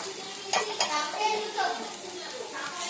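Onion frying with turmeric, ginger and garlic in a pan, a steady close sizzle with occasional stirring scrapes and light utensil clicks throughout.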